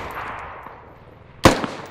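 A single sharp gunshot cracks out in a video game, loud and abrupt near the end, with a brief echoing tail above a quiet background hum.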